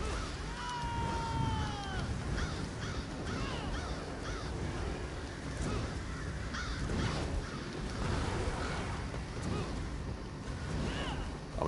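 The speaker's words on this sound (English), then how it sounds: "Trying to avoid those crows if I can." Crows caw in Elder Scrolls Online, a few drawn-out calls early on over a steady outdoor wind and water ambience, with softer scattered cries later.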